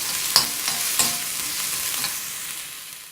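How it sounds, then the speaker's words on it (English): Onions and ginger garlic paste sautéing in a pan, a steady bright sizzle with a couple of sharp stirring clicks near the start, close and alone. "Saute well until the onions turn pink in color"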